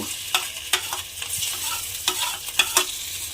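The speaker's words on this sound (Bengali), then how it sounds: "সেই গ্রেট করা আলুটা আমি এর মধ্যে দিয়ে দেব" Grated potato frying in hot oil in a pan while a spatula stirs it, crisp sizzling broken by several sharp scraping knocks at irregular intervals, close and with no voices.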